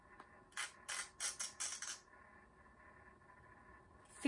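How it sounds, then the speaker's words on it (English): Polyester fabric is ripped in a quick series of about six short, sharp tearing bursts over two seconds, followed by a quiet stretch. "Ripping but polyester fabric"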